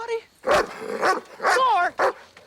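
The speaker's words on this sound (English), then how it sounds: "you want to control that dog before he bites somebody?" Dog barking in a 1996 horror film scene, several loud sharp bursts in quick succession, some drawn out into a snarling whine, mixed with film dialogue and tension.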